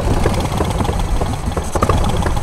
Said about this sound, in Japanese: ということでまたがってエンジンつけてもらいましょうかね。